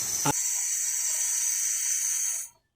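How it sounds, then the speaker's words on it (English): Steam hisses steadily from a pressure cooker cooking oxtail, a loud constant high hiss after a brief knock at the start, cutting off abruptly near the end. "As you can see, the steam is popping up out of it now"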